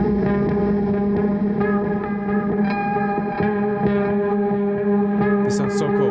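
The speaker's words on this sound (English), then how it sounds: "the pre-existing loops and particularly the pulses" A sustained, distorted guitar pulse loop from the Appex trailer guitar library plugin, droning steadily with dense harmonics and effects-laden reverb, heard alone at a consistent level.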